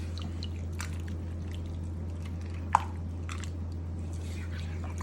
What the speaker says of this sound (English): give this a good mix together. Get all the beef and the beans, those veggies